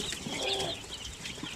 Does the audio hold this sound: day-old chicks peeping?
yes